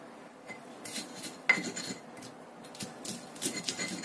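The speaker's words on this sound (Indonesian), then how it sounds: "Kita ulek dulu sampai halus semua bahannya." Spice ingredients for homemade crackers are ground with a mortar and pestle (ulekan): quiet, irregular scraping and rubbing strokes close by, with one sharp knock of the pestle.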